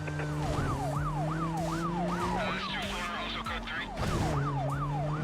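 A wailing police car siren in Need for Speed Most Wanted sweeps up and down in steady repeated cycles, loud and continuous over a low engine drone and in-game road noise, with a brief dropout near the end.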